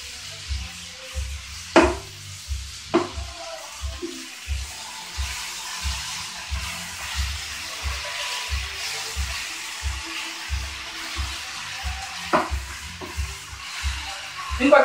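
Onions caramelizing in a pan for a baked lamb dish, with a steady soft sizzle under rhythmic scraping strokes of stirring and a few sharp clicks of utensil against pan, close and fairly quiet throughout.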